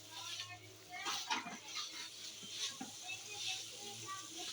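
Spices and green chilies stir-fried in a pan for a Bengali gourd curry, a steady soft sizzle with scraping spoon strokes, close up, under a low background hum while a person talks.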